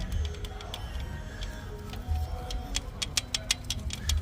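A 3.6 Pentastar engine idles with a light valvetrain tick from bank one, a quiet repeating series of sharp clicks over a low, steady engine hum.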